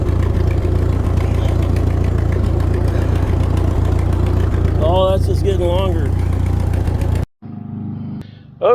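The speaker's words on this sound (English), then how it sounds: "we got her going. Well, she's running pretty good" An 80-year-old Ford 2N tractor engine runs steadily and loud up close with a low, even rhythmic chug, while a voice briefly talks over it before the sound cuts off abruptly near the end.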